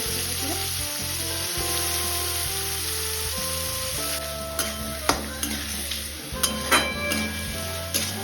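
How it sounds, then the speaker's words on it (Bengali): Onions fry in a pan with a steady, close sizzle. A constant tone sounds underneath, and toward the end a few sharp clinks come from the stirring. "পেঁয়াজটা আমি ভেজে নিই"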